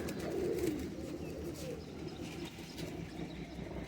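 Pigeons cooing in a pigeon-keeping setup, soft low coos at moderate distance amid faint background noise.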